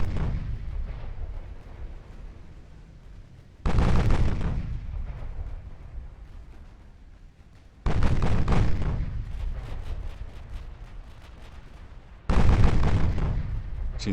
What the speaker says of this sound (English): Right now he appears to be firing with his guns on the light cruiser.